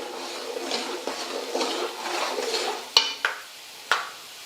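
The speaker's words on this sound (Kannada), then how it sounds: "ಈಗ ಇದಕ್ಕೆ ನಾನು ಕರಿಬೇವು ಹಾಕೋತೀನಿ ನೋಡ್ರಿ" Fresh curry leaves dropped into roasted peanuts in a hot pan give a steady, close crackling sizzle, ending in a few sharp pops and spits.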